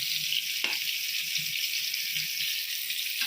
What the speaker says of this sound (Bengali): এই যে পটল ভাজতেছে